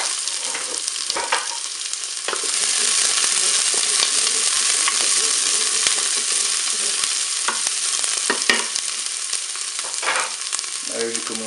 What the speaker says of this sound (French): Je vais commencer par mettre mes oignons dans la cuve.